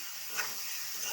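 Fried potatoes and eggs sauté with garam masala in a pan, giving a steady, soft sizzling hiss with a faint stir near the middle.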